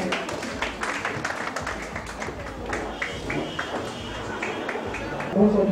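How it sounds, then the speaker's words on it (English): An audience at an African culture pageant and red-carpet event applauds, a dense, steady patter of many hands that keeps going throughout, with crowd voices mixed into the clapping. "A round of applause for that."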